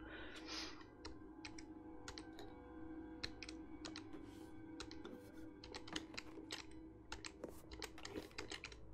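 Rapid clicky typing on a noisy computer keyboard, steady irregular keystrokes close by over a low constant background hum.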